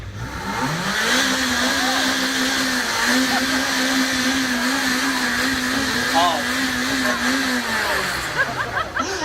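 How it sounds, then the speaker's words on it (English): A Ferrari F40 engine is revved while standing at a supercar parade at Wilton House. It holds a loud, sustained, buzzing high-rev note for several seconds, then drops back with crackles, heard close from behind the car. "I really think I've got pride of place standing behind this Ferrari F40 while it's going to rev."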